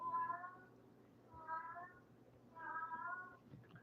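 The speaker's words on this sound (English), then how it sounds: "Let me go get my cat" A pet cat meows three times in a row, each call drawn out and fairly close, with quiet room noise between and a brief knock at the end.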